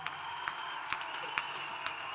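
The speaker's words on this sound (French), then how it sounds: "Acclamation." A church congregation at a prayer and intercession gathering applauds, with steady clapping and a few sharper individual claps standing out at a regular pace beneath a continuous crowd wash.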